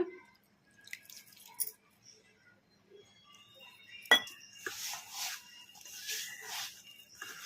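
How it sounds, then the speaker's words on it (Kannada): A spoon mixes gobi pakora batter of gram flour and rice flour in a bowl after water is added. Sparse soft clinks come first, then a sharp knock and a stretch of wet, sloppy stirring, heard close. "ಈಗ ಇನ್ನು ಸ್ವಲ್ಪ ನೀರು ಹಾಕಿ ಕಲಿಸ್ಬಿಡೋಣ"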